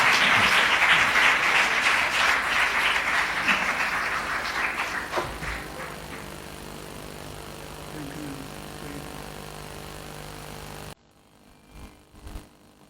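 A church congregation claps to welcome a pastor, loud and dense at first, then thinning and fading over several seconds into a quieter room hum before cutting off.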